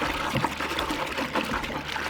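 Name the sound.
water agitated in a storage tub with cleaner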